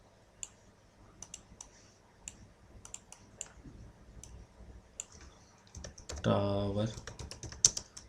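Light clicking keystrokes on a computer keyboard come in scattered taps, quiet and close, joined by a brief burst of a voice partway through and a few sharper clicks near the end.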